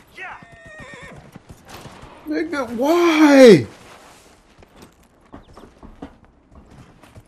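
In the video game Dragon Age Inquisition, a horse gives a loud, rising-then-falling whinny between scattered hoofbeats, while someone talks before and after it.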